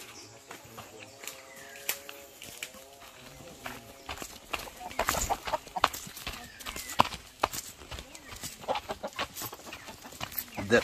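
Chickens cluck and call near and far in a yard, mixed with scattered knocks and rustling, while someone talks over them throughout.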